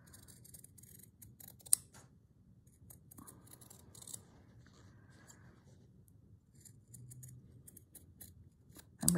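Scissors snip through fabric to cut out a heart shape for slow-stitch textile work, giving a few soft, close cuts spread across an otherwise quiet stretch, with a sharper snip near the start and another at the end.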